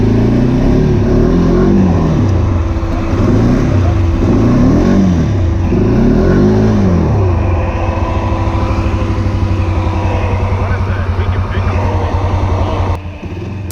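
Off-road vehicle engine revving hard in repeated surges as the wheels spin while it struggles to climb over rocks, loud and steady throughout, with voices talking faintly underneath.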